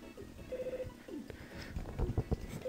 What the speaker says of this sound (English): As Ness is walking to his door, the phone rings.